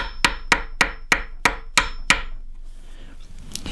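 Seven sharp, evenly spaced mallet blows drive a chisel into wood while cutting out a Dutch door for a tiny house, loud and close, then the strikes stop and only faint handling sounds remain.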